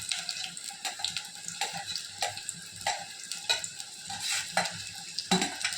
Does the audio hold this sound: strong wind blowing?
no